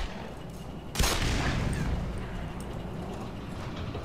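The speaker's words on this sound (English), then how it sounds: "I have to shoot the mines with this" A single sharp gunshot blast in the shooter game Black Mesa, fired at mines, cracks out loudly and then decays into a lingering rumble over steady game ambience.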